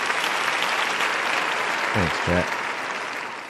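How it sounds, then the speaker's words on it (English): Steady broadband applause from a group after an afternoon live trading stream, filling the whole stretch at a fairly even level, with a brief spoken thank-you cutting through midway. "Let's give these guys a round of applause for a job well done this afternoon."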